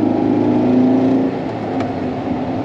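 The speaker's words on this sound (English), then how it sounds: "The car is a little loud." An old air-cooled Volkswagen engine runs loud and steady close by, a droning hum with a slight drop in level partway through.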